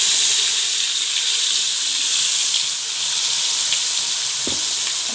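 Ground masala paste for beef kofta curry tipped into hot oil, a loud, steady close sizzle and hiss of frying with a few soft stirring knocks near the end.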